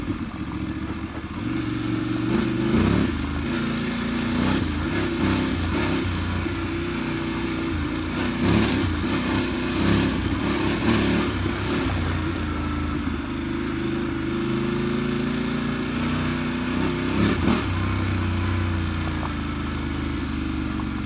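Voge 900DSX motorcycle ridden along an off-road path, its engine droning steadily with small rises and dips in revs, plus rattles and clatter from the rough ground, recorded close to the bike.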